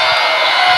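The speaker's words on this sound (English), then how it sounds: "The crowd getting hyped" A high school boys' basketball crowd, Mt. Blue versus Leavitt, roars and whoops in a sustained wall of cheering, loud and close, with no clear voices standing out.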